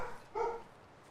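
A dog barks once in the video game Wintermute, a short single bark standing out briefly against a quiet background.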